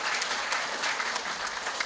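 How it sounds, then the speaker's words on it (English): An audience at a regional sports awards night gives a recipient a steady round of applause, a dense, even patter of many hands clapping with no talk over it. "I'll give her a round of applause because she's up here."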